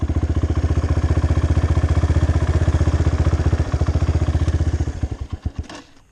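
A 2018 Apollo 250RX dirt bike engine runs with a steady, loud, close chugging idle that sputters unevenly and fades out near the end, with no voices.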